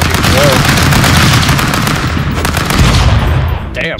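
Gunshots in Stick Fight: a dense, loud, continuous barrage of rapid firing that crackles steadily for several seconds before cutting off abruptly near the end.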